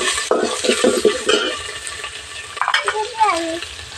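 Ginger garlic paste hits a hot pan with onions, sizzling and frying while a spoon stirs and scrapes against the metal in uneven bursts, close and clear, with no talk.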